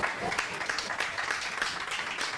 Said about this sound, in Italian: Un bel applauso a tutti quanti